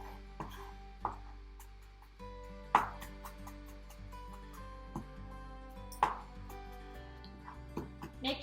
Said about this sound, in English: Chopping the garlic with the parsley makes all the oils